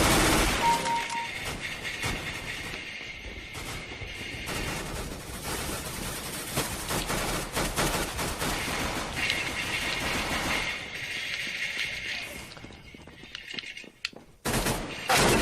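Sustained rapid gunfire in Counter-Strike: Global Offensive on Xbox 360, dense bursts of shots and mechanical rattling running loud and nearly continuous throughout, with a brief drop near the end before firing resumes.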